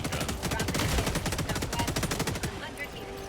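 Heavy machine gun firing in the video game Helldivers 2, a sustained loud rapid-fire burst of evenly spaced shots for over two seconds, then stopping as faint game sounds continue, with some talk underneath.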